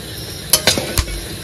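Whole garam masala hits hot oil for tempering, giving a few quick clinks and crackles over about a second, then a brief low sizzle, close and fairly loud.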